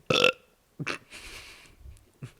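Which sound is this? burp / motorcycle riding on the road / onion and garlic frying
burp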